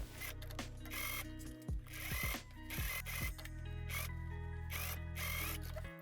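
A sewing machine stitches a jacket seam allowance in quick mechanical bursts, its motor whirring in several runs separated by short pauses, close and clear with no talking.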